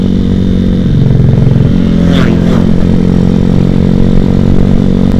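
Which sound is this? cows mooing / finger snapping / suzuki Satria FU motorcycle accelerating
suzuki Satria FU motorcycle accelerating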